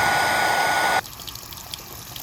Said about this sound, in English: use a hairdryer on it and run it under some cold water to hopefully straighten that out